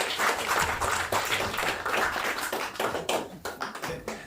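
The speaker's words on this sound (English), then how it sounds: "A big round of applause for our final guest, Super Page 58." Audience applause at a live comedy-style sofa show in Harrow, a steady dense patter of many clapping hands that stays level before thinning into sparser, uneven claps near the end.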